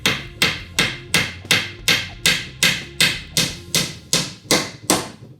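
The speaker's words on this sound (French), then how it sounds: "petit marteau, vous prenez votre clou" A small hammer drives nails into a wooden pallet with about thirteen sharp, evenly spaced blows, each a loud close crack that rings briefly before the next.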